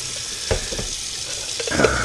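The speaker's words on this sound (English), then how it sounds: "Give them a rinse." Running tap water rinses raw potatoes being prepared for hash browns in a kitchen sink, a steady near splash with a few brief thumps and clatters, no talk.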